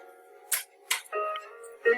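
Clicks on a Lenovo ThinkPad laptop, a couple of sharp close taps with brief bursts of softer clatter between them, all quite loud and isolated.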